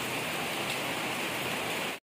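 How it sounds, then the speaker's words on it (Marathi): Steady rain falling during a monsoon downpour, a dense, even hiss that fills the air, loud and constant, then cutting off abruptly at the end. "बघा अजून वाढलेला आहे पाऊस"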